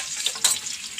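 Onion and garlic frying in hot oil for a crab roast, a steady hiss of sizzling with a brief louder crackle midway, close and alone.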